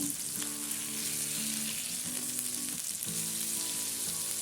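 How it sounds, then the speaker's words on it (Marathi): Pomfret fish fries in oil in a pan just after being flipped, a strong continuous hiss and crackle up close, with faint background musical tones beneath and no talking. "इथं एका बाजूने मी पाच मिनिट पापलेट छान असे फ्राय करून घेतलेले आहेत आता आपण पलटून घेऊ"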